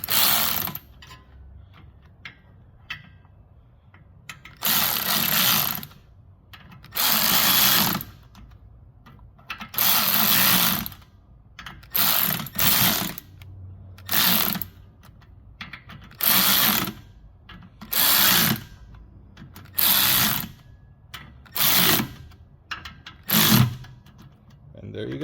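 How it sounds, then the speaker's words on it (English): A cordless drill drives bolts to press in rear trailing arm bushings on a BMW E36/E46, in repeated whirring bursts of a second or two with short pauses between, close and fairly loud. "drive them in, slowly, and you do it in sequence, and it should pull"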